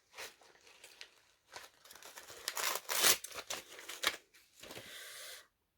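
Wrapping paper around a package holding a steel bookmark is torn and crumpled up close, with crinkling rustles that swell into loud tearing bursts before fading.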